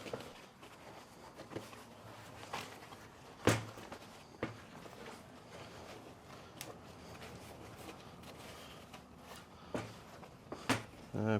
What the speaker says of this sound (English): we'll see if this staple gun's gonna cut it or not